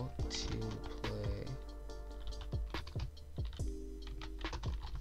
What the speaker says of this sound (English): all you have to do is start typing